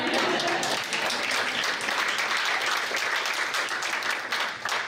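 An audience at a women's entrepreneurial panel event breaks into a round of applause, a dense, sustained wash of many clapping hands that holds steady for several seconds.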